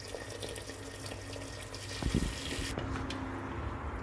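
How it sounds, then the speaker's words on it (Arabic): Boiling water pours steadily into a pan of chicken, olives and carrots, a continuous close splashing rush with a brief louder surge midway before settling to a softer flow. "رح انزل عليهم بمي سخنة عم تغلي لحتى ينغمر معنا الدجاج"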